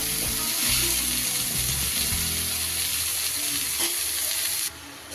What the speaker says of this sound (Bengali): সুন্দর করে আমি এবার মশলার সাথে মিশিয়ে নেব